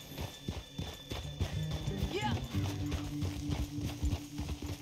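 Horse hooves clip-clopping in the video game Red Dead Redemption 2, a rhythmic series of close hoof knocks with a brief whinny partway through, while a voice talks over the steps.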